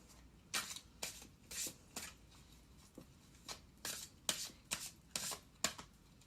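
Tarot cards from a Psychic Tarot deck being shuffled by hand, a series of about ten crisp riffling bursts in an irregular rhythm, close and fairly quiet, with no talking.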